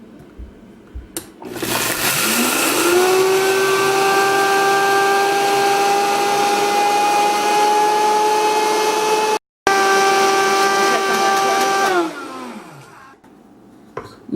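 A Vitamix blender grinds sprouted lentils into flour, spinning up to a loud steady whine with strong harmonic tones, holding for about ten seconds with a brief dropout, then winding down as the motor stops.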